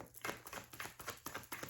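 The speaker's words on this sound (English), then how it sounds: "I'm going to shuffle this one more time." Tarot cards being shuffled by hand give a quiet, close series of quick papery riffling slaps in a steady rhythm.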